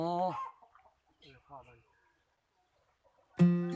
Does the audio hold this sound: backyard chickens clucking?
yes